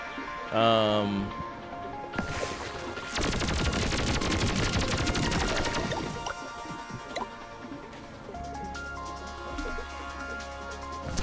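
Rapid automatic gunfire rattles in the video game Pathogenic, a dense burst of several seconds between other game sounds, with a player talking.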